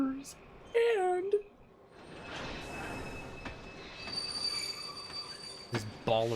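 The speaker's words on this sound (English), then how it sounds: "This baller train." A train in the video game Kingdom Hearts HD 2.5 rumbles and clatters along with squealing wheels and a brief rising whistle-like tone, mixed with game music and effects; a voice talks briefly.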